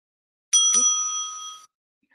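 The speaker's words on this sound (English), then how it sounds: "The timekeeper will ring the bell once." A debate timekeeper rings a bell once, a bright, close ding that rings on for about a second before cutting off.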